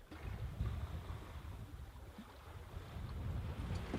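Sailboat cruising slowly at sea in a light wind of 3 to 4 knots, with a steady low rush of wind and water and soft wave wash continuing throughout, no voices.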